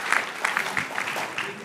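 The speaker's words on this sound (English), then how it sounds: "Please give him a loud applause" An audience applauds at a gathering, with brief, fairly close clapping mixed with voices that rise and fall throughout the short burst.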